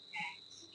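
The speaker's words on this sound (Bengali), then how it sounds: "এটা ঝিঝি পোকা ডাকছে।" A cricket gives a faint steady high chirp, heard briefly and quietly indoors with no voices.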